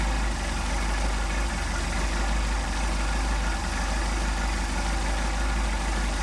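Mercedes 190SL engine idling steadily with Solex carburetors under adjustment, a continuous loud low rumble with dense broadband noise and no talk.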